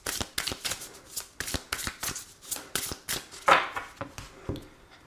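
Oracle cards being shuffled in a rapid run of crisp riffling flicks and slaps, close and fairly loud, with one brief bright rustle midway and no talk.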